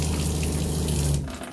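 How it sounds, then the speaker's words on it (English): A steady, loud mechanical hum of an RV travel trailer's water pump running alongside rushing water, continuous for over a second before cutting off near the end. "You hear that water pump?"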